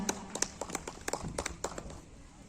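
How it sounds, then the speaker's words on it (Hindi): Scattered, sparse hand claps from an audience at a youth poetry festival, applauding a poet, quick uneven claps fairly close and faint over a quiet room, with no one talking. "इनके लिए जोरदार ताली बजाएं"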